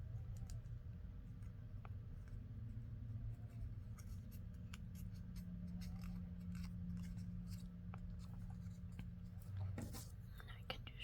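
Scissors trimming paper for a large tea-bag full-page journal spread, a series of small crisp snips close by over a steady low hum, with soft speech murmuring underneath.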